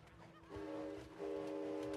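A train moves in the video game It Takes Two, with a sustained tonal horn-like drone rising and holding over low rumbling, moderately loud and steady, with no speech.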